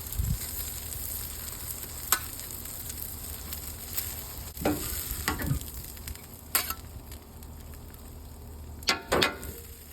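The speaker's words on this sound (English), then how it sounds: "I'm going to try to toast the bread, or that flatbread, right here in this grill, on this grill with that grease." Flatbread toasts in leftover grease on a Masterbuilt Gravity 800 grill. It gives a steady, close sizzle and crackle, and a few louder scrapes and pops break in now and then.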